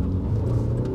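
Citroën C4 Cactus with a 1.5 diesel engine and six-speed automatic pulls away from standstill, a loud low rumbling engine drone heard from inside, steady and close.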